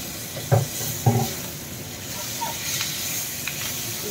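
Garlic-ginger paste hits a hot pan and sizzles with a steady hiss, punctuated by two sharp stirring scrapes near the start and lighter clinks later; no one speaks.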